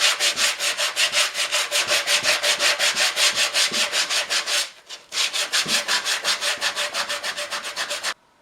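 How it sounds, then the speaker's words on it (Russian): Sandpaper rubs steadily over an oak barrel in quick, even back-and-forth strokes, close and loud, with a brief pause midway before the rhythmic scraping resumes. "нам нужно вот эти места, где у нас осталась ржавчина или какие-то пятна от наших рабочих обручей, немножко зачистить наждачкой."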